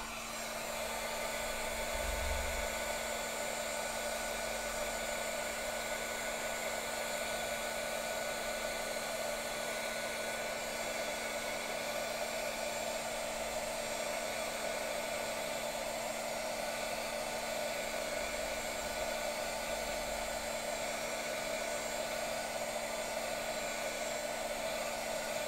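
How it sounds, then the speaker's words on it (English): A heat gun warms a stamping foam block, giving a steady, continuous blowing hum with an electric whine that holds unchanged throughout, close and alone. "We're gonna heat up our heart."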